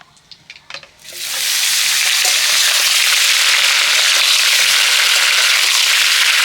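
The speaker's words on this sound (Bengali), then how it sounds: "তেল গরম হয়ে গেছে, এবার আমি কেটে রাখা আমগুলো তেলের মধ্যে দিয়ে দেব" Raw mango pieces dropped into hot oil, bursting into a loud, steady hiss and crackle after a few quiet handling sounds, then sizzling evenly at close range.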